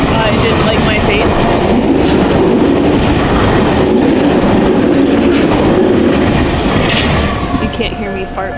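A train rumbles past very close and loud outdoors in Japan, with rattling wheels and a roaring hiss that hold steady for several seconds before easing slightly, while voices are faintly buried beneath it.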